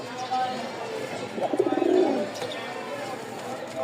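Pigeons coo in a soft, rolling burst near the middle, close by, with a person talking faintly around them.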